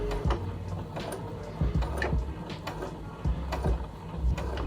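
A Brother SE 600 sewing machine back stitches at low speed, with rhythmic mechanical clunks and ticking needle strokes repeating in short bursts, close and fairly quiet.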